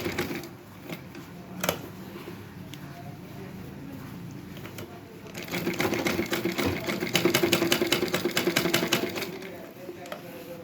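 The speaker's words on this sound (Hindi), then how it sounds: "अब मैं चारों तरफ सिलाई लगा लूँगी" A sewing machine stitches a handmade slipper in bursts of rapid, even mechanical chatter that grow louder midway, with a voice talking over it at times.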